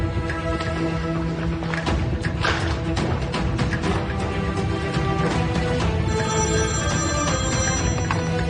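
A telephone rings continuously over a dense, steady bed of background music in a Turkish drama scene, the ring loud and unbroken throughout with no talk.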